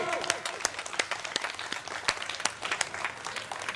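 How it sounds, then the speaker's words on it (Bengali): An audience at a Saptami festival programme applauding, a burst of brisk, uneven hand claps from a modest crowd, fairly close, without talk. "জোরে হাততালি"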